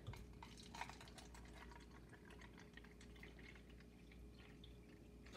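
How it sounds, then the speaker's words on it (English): Water poured into small cups during a children's science demonstration gives faint trickling and dripping splashes over a low steady hum, quiet and close, with no speech. "Pour some more water in."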